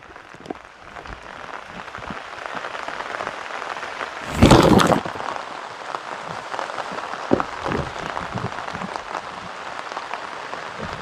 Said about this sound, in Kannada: ಮಲೆನಾಡಿನ ಮಳೆ ಎಷ್ಟೊಂದು ಜೋರಾಗಿದೆ ಅಂದರೆ